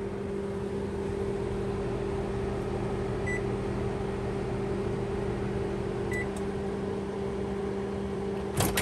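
An RV convection oven runs with a steady mechanical hum and fan drone. A few faint beeps sound from the controls, and a sharp click comes near the end, with no talk.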